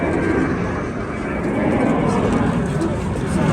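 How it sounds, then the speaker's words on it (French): Airplanes drone overhead as a steady low rumble at an outdoor flea market, constant and moderately loud beneath nearby voices talking. "Et comme vous l'entendez, il y a le bruit des avions."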